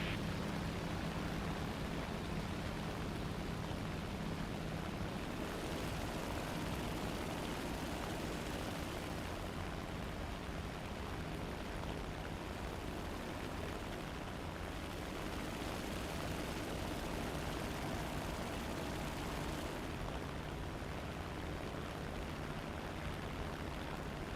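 Propeller engines of a Lancaster bomber drone steadily in a flight combat game's air realistic battle, a loud, continuous close roar with a low humming undertone that barely changes across the whole stretch, with no talking.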